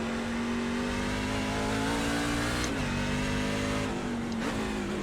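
A NASCAR race car engine in the iRacing sim roars at full throttle on a Class C series road course, a loud, steady, high-revving drone that dips briefly as the car gets loose, then keeps pulling with no talking.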